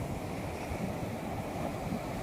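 Sea surf surges and breaks against the shore beside an old Dutch-era sea fort, a steady broadband wash of foaming waves with wind rumble, close and continuous without any voices.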